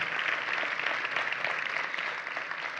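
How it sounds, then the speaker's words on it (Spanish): An audience gives a strong round of applause as a guest is welcomed onto a Spanish-language talk program, a steady, moderately loud wash of clapping that carries on evenly. "lo recibimos con un fuerte aplauso."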